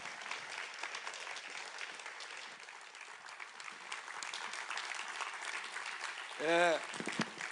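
A church congregation at a Korean revival service applauds as the pastor takes the stage, sustained dense clapping throughout at moderate distance, with a brief feedback squeal from the sound system near the end.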